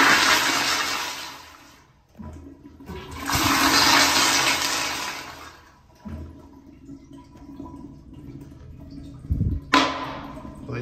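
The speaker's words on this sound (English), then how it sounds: "At least it has decent power, but the flush is very short." Kohler Wellcomme/Highcrest toilet, a 1999-2012 model refitted with a Highcrest water guard, flushing with a strong but short rush of water, followed by gurgling refill and a few knocks, nearby and loud.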